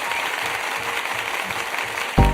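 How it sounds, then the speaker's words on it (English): An audience at a talk gives a steady round of applause, a dense wash of clapping heard from some distance that carries on evenly and then ends with a sudden low thump. "I think you deserve an applause for that."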